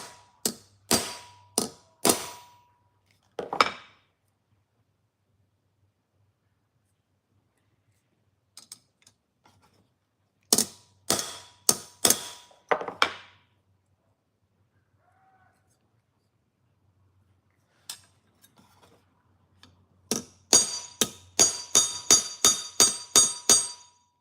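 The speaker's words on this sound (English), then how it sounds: "hits with the hammer in some specific spots" Hammer tapping on an usuba knife blade during restoration, bursts of sharp, ringing metallic strikes in quick series separated by long quiet gaps, ending in a fast run of about a dozen taps.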